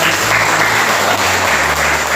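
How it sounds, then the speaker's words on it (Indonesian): Steady applause from a crowd, dense clapping filling the whole moment at a fairly loud level with no pauses. "Kita tepuk tangan buat teman-teman"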